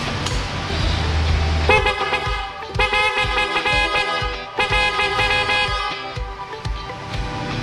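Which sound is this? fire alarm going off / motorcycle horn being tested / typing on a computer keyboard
motorcycle horn being tested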